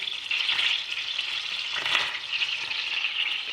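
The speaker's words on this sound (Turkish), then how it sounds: "Kıstım altına ya yine de çatırlıyor" Butter melts in a pan over a low flame, giving a continuous bright sizzle with fine crackling, steady and close throughout with no voices.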